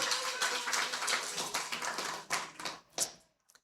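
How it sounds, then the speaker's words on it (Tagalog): An audience breaks into strong applause, a crowd of clapping hands that rises quickly, holds, then thins into a few scattered claps before dying away. "Pwede ba isa muna malakas na palakpak para kay Lord John?"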